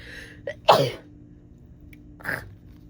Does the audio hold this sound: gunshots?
no